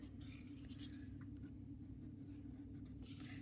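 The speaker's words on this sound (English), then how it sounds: "now you're going to take your pencil, just kind of trace around it" A pencil scratches across paper, tracing around a battery in a steady continuous scrawl over a low background hum, with no talking.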